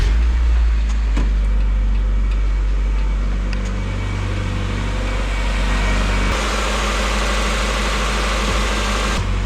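A Mazda Miata engine idles steadily at operating temperature with a freshly painted valve cover, a continuous low rumble and hum up close that stays even throughout, with a slight shift in tone late on.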